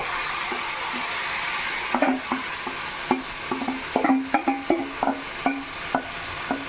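Mushrooms fry in a pan for biryani, a soft continuous sizzle broken by a string of close, sharp clinks and scrapes from stirring that grow more frequent toward the end.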